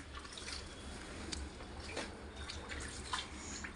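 Water splashes steadily as clothes are washed nearby, a soft continuous wash of sloshing with a few brighter splashes, heard from some distance with a low hum underneath.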